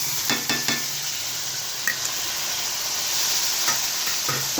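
Boiled cabbage and chana dal frying in a pan with onions for a curry, an even sizzle and hiss with several light scrapes and clinks of a spoon stirring against the pan.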